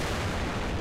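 A distant explosion in the Minecraft HBM Nuclear Tech mod, heard as a dense, steady low rumble that fills the whole short stretch without distinct peaks.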